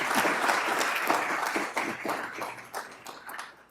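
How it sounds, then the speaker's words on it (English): An audience gives a round of applause for a law student at an annual lecture event, a dense crowd clapping that starts full and gradually thins and softens toward the end. "Let's give him a round of applause."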